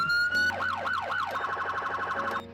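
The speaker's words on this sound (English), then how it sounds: "Let's listen to the sirens." A loud electronic emergency vehicle siren in the Roblox video game shifts through patterns, from a steady tone to fast wailing sweeps and then a rapid yelp, with no talking.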